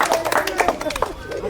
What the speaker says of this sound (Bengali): আর ভাইয়ের জন্য হাততালি হবে।